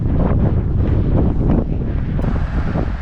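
Strong wind buffets the microphone in a continuous, loud rumble with gusty swells and no voices, on the coastal road in Sorsogon City.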